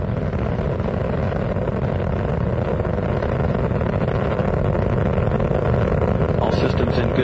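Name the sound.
Space Shuttle Atlantis rocket engines roaring during launch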